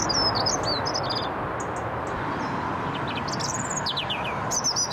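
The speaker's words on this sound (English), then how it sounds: "urban birds may make their songs louder to compensate for this noise" Several birds chirp and trill in bright, quick bursts over a steady, loud rumble of traffic noise.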